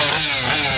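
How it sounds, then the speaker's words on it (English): A chainsaw at a haunted attraction roars in a brief, steady, harsh burst, loud and close with no talk. "That chainsaw back here, he ain't playing around."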